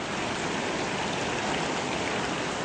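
Water pours steadily from a drain below a spillway and splashes down into a river, a constant broadband rush with no pauses and no voices.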